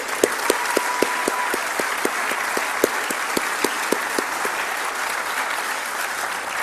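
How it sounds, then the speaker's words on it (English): A round of applause from an event audience at a humanitarian award presentation, with sustained crowd clapping and a few sharp, rhythmic louder claps standing out near the front before the sound gradually thins. "Let's give Jeff a round of applause."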